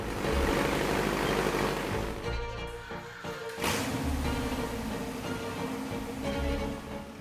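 A 1966 Plymouth Barracuda V8 runs with a loud, rough, roaring drone that dips briefly midway before swelling back to full strength.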